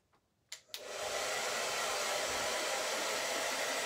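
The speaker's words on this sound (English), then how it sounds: "real quick where my hair dryer is. And hopefully if it's down here, it will be less noisy" After two quick clicks, a hair dryer switches on and settles into a steady, loud, close whoosh that runs without a break, with no talking.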